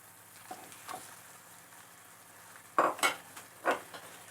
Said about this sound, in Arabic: انا كنخلطها هكا مزيان مع البصله وفي نفس الوقت كنبقى نفرتتها